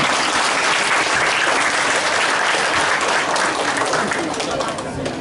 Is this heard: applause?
yes